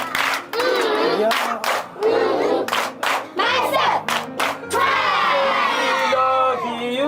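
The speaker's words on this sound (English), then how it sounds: "Now give him a love clap." Crowd clapping in bursts with whoops and cheers at a lively gathering, loud and close, interleaved with people shouting and talking.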